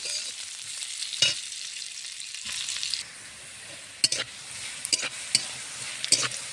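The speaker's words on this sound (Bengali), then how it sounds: "আমার বিটটা সুন্দরভাবে ভাজা হয়ে গেছে।" Beetroot sizzles steadily in a hot pan while being cooked for fried rice, with sharp scraping stirs of a spatula cutting through the frying at irregular intervals; close and fairly loud, with no talking.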